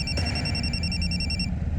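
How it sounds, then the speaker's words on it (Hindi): A phone rings with a steady electronic tone over low background rumble, cutting off abruptly after about a second and a half. "तुम्हारा फोन बज रहा है।"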